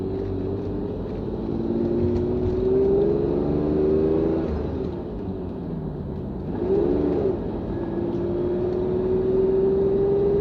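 A red Ferrari Testarossa with a flat V12 engine, heard from inside while driving: a loud, smooth engine note that rises through the revs, dips with a gear change and climbs again, steady and close.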